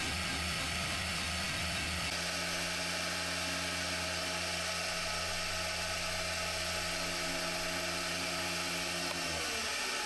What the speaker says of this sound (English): And this is what it looks like to start a new row on the rose engine.